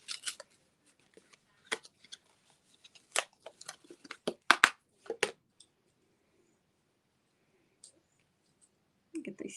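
Staples being pried and pulled from fabric backing while making gnome ornaments: a close sequence of sharp metallic clicks and snips, clustered irregularly with quiet gaps between, louder in the middle and sparse toward the end.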